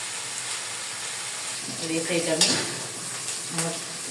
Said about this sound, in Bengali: পেঁয়াজটা একটু ভালো করে ভেজে রান্না করি